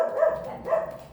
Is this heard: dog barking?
yes